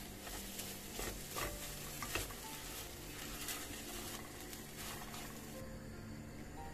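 Tomato paste fries in a pot for flour soup, a soft continuous sizzle with occasional light stirring clicks, fairly quiet and without speech.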